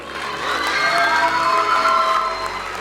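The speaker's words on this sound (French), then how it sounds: "Ça s'applaudit." A crowd applauds and cheers steadily throughout at a young-talent music award event, with dense clapping and excited shouts blending into one loud, continuous wash of sound.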